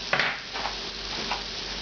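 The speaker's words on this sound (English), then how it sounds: "begin frying the beef" Beef sizzling in hot fat, a steady close crackle with a few brief scraping stirs, browning for beef bourguignon.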